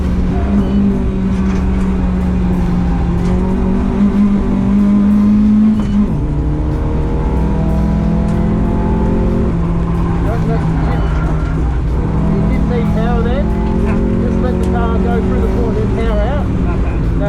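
A car is driven fast on a race track, its engine droning loudly and continuously with rising and falling pitch through shifts, while people talk over it throughout.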